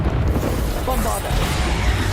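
A Bombarda blasting spell in Hogwarts Legacy explodes as a dense, loud, sustained boom with rumbling low end and crackling debris, heavy battle noise throughout.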